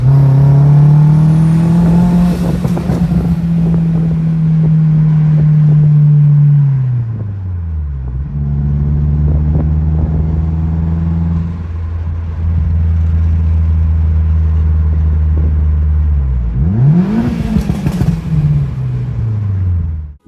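A car with a stock engine and a big turbo, on the road for the first time, accelerates hard through several gears, loud rising engine pitch dropping at each shift, then a final rev near the end, close and strong.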